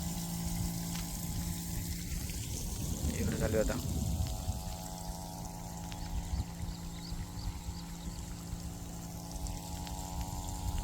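Water pours steadily while a ginger field is drenched, a continuous rushing flow with a pump-like hum underneath, close and fairly loud, with a person briefly speaking.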